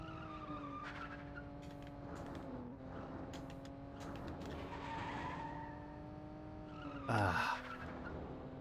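A car skids and races in the Nintendo 64 game Cruis'n World, a steady engine drone with several brief tire screeches and a louder skid burst near the end, no talk.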